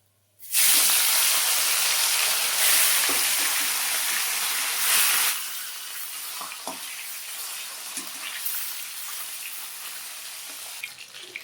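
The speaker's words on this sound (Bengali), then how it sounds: "খুব বেশি কড়া বাজিনি হালকা করে ভেজে নিলাম আমি মাছটা" Snakehead fish and fish heads lightly frying in hot oil, a loud steady sizzle that starts abruptly, then settles to a quieter crackle with scattered pops.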